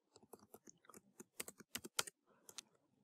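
Quick bursts of keystrokes on a computer keyboard while entering HTML symbol code, close and quiet, irregular clusters of clicks with short pauses between them and no talking.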